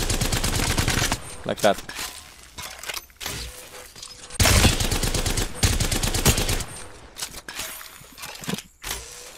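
Havoc rifle fire in the shooter game Apex Legends: loud bursts of rapid automatic gunfire that stop and start, broken by short gaps, with a voice speaking briefly over it.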